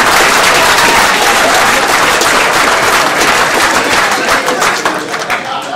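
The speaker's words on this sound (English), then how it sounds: "Big round of applause for this man." Loud, sustained applause from a dinner audience for a guest speaker fills the whole stretch, a dense wash of clapping that tapers slightly at the end.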